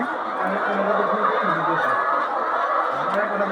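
A dense chorus of about two thousand 36-week-old hens clucking and murmuring inside a poultry shed, with someone talking over the constant flock noise.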